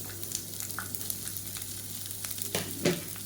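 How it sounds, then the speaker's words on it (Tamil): Sliced big onions sizzle and fry in oil in a pan for a Tamil manathakkali keerai kulambu, a steady crackle with a few sharper stirring scrapes near the end, no voices. "இப்போ ஒரு கைப்பிடி அளவுக்கு பெரிய வெங்காயம் நீளமாக நறுக்குனதை சேர்த்துக்கலாம்"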